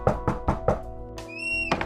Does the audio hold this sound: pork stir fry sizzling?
no